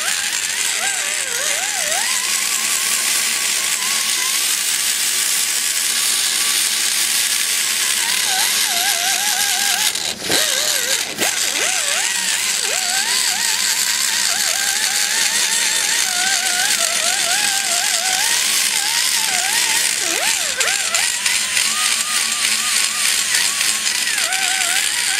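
Die grinder porting the edge of a ProComp 190cc cylinder head, a loud steady high-pitched whine whose pitch wavers as the bit touches the metal, with a short interruption midway.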